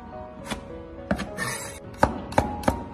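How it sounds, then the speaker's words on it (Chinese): A knife chops red pepper into diamond-shaped slices on a cutting board: about six crisp, close knocks in an uneven rhythm, with a short gap between cuts. "红椒也切成菱形片"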